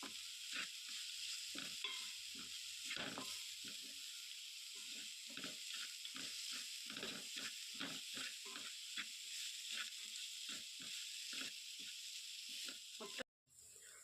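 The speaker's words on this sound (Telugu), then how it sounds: "స్టవ్ సిమ్లో పెట్టి ఫ్రై చేసుకోవాలి ఇవన్నీ" Ingredients for amla rice fry in a pan over a low flame, a soft steady sizzle broken by repeated rhythmic stirring scrapes, ending in a sudden clatter and a brief drop to quiet.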